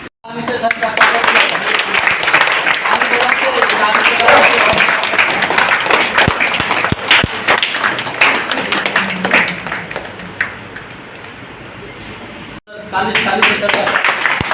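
Sustained applause from a group of people welcoming guests at an office Gandhi and Shastri Jayanti celebration, dense and steady, with voices audible underneath. The clapping cuts off briefly near the end and then resumes.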